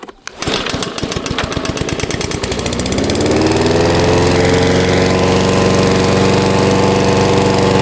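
A Vitals Master ZP 51144TD petrol lawn mower engine sputters, then catches and settles into a loud, steady roar that runs on without pause.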